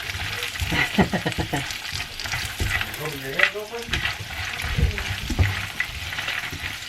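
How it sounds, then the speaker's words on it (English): Cloves frying in a hot pot, giving a steady crackling sizzle with bursts of stirring and scraping throughout, close and fairly loud. "we're just gonna fry these up"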